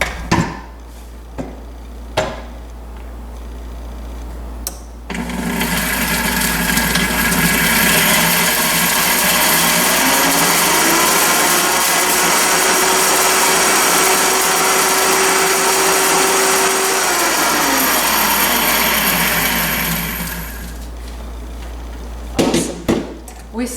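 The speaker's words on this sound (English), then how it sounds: "first thing I want to do is grind this leaf into powder" A small electric grinder whirs steadily for about fifteen seconds, pulverizing dried comfrey leaf into powder, its motor pitch shifting slightly as the leaf breaks down, with a few clicks and handling knocks before and after.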